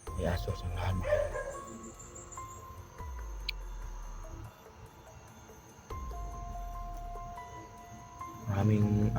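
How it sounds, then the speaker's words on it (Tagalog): Dogs bark and yip in short bursts near the start and again at the end, with a quieter steady hum in between. "May aso sa lahat"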